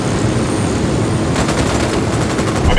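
Gunfire in the video game Ghost Recon Wildlands: after a steady rumbling background, a loud run of rapid automatic shots begins about halfway through and keeps going to the end.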